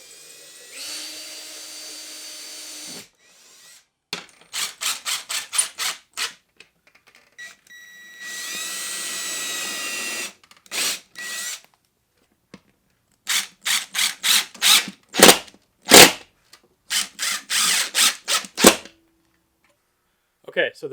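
A Mr Cool DIY 24K air conditioner's wall bracket is screwed into studs with a power drill. Repeated close, sharp bursts of driving come in quick rhythmic series, with a couple of longer drill runs and pauses between.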